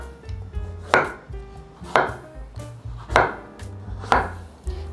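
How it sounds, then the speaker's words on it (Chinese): A knife slicing through pumpkin on a cutting board, five firm, evenly spaced chops roughly a second apart, close and clear with no talking. "把南瓜切片。"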